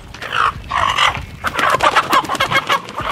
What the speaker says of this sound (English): Everybody's gonna catch chickens.